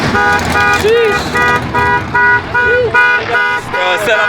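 A car alarm blares loudly at a drag strip car meet, cycling through repeating electronic tones and whoops in a steady pattern, with people talking nearby.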